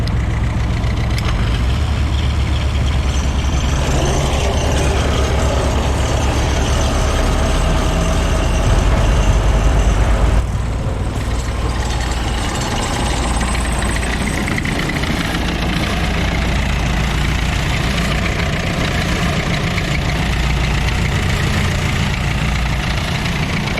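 Kubota diesel engine on a junkyard-built roller/compactor runs steadily at high load, a loud, continuous low rumble with a brief surge near the middle, close by with no talking.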